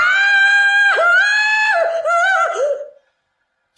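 A woman screams in a long, high, wavering cry that breaks into several strained pulses before cutting off into silence.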